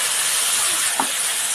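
Spices dropped into hot oil with already fried onion and garlic, a steady loud broadband hiss of sizzling throughout, with one brief sharp pop or clink near the middle.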